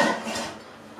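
A glass baking dish clinks as it is set down on a hard surface, one short ringing knock that quickly fades.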